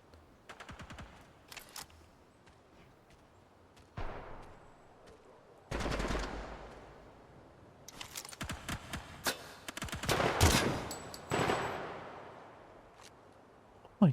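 Video game gunfire rings out as scattered single shots and rapid automatic bursts, some close and loud, others fainter, with short lulls between volleys.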